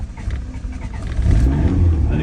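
A 1987 Lotus Esprit Turbo's engine fires up and rises into a deep, loud rumble that swells midway through, heard up close without talking.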